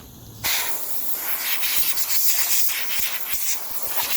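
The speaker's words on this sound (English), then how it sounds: "I'm going to throw this attachment on my air compressor, and I'm going to blow off all of the excess powder from the first coat." Compressed air from an air compressor attachment hisses steadily, blowing loose powder off powder-coated dirtbike footpegs, a continuous nearby rush starting abruptly after a brief quiet moment.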